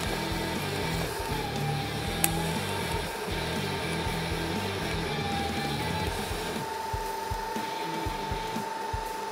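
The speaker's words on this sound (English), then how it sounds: "I'm actually just gonna do a fusion weld." Fusion welding a nut onto a steel tube, a steady close hiss and hum running continuously throughout, with a faint high-pitched tone and one sharp click.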